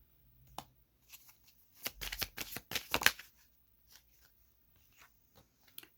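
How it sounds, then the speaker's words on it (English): Tarot cards shuffled by hand, a quiet close riffle in a cluster of soft flicks and slaps, with a few scattered card taps falling before and after. "Cards are just falling everywhere."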